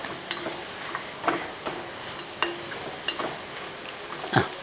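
Chicken curry stirred with coriander leaves added: soft scraping and clinks of a spoon against the pot at irregular intervals over a faint low sizzle, close and quiet.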